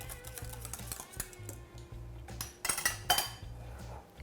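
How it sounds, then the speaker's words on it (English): A whisk works through bechamel sauce with black pepper in a metal pot, making rapid, rhythmic close clinks and scrapes at a fairly low level. "I'm going to whisk everything together"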